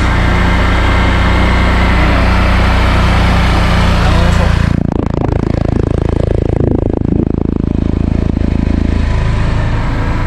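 A Honda Click 125 scooter, the 2023 version 3 in white and orange, runs at a steady idle close by before a sharp change midway into rougher, broadband engine noise, with a voice talking over it.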